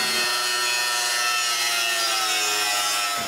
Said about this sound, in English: The first part of the cut is made with my metal miter saw.